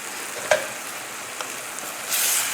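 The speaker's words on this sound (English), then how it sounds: "Give it a stir." Pork frying in a pan with tamari gluten-free soy sauce, a steady close hiss with a couple of quick stirring clicks and a louder sizzling surge near the end, no talk.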